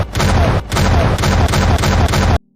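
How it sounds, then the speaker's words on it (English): A She-Hulk punch to the face lands like a small explosion, a series of loud, booming blasts repeating in quick succession before cutting abruptly to silence. "takes a punch to the face from She-Hulk that sounds like a small explosion"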